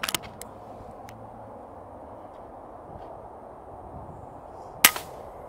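A single sharp crack of a gunshot aimed at an iguana on a Florida church roof, brief and moderately distant, after a few faint clicks at the start against quiet outdoor background.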